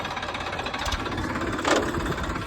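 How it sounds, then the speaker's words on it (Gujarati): A tractor engine runs steadily just after starting, a continuous low knocking idle with broadband rumble, fairly close, with one brief louder burst midway and no talk. "ફાઇનલી ભાઈ ટ્રેક્ટર ચાલુ થઈ ગયો છે"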